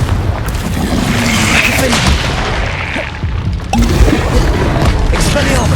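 Confringo blasting spell from the wizarding game Hogwarts Legacy, a dense roaring boom with crackling debris that fills the whole stretch, briefly dipping before a second blast surges back, while a voice speaks over it.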